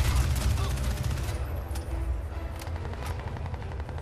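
Rapid machine gun fire in the video game Crysis 2 rattles in a dense burst at first, then thins to scattered shots and echoing booms.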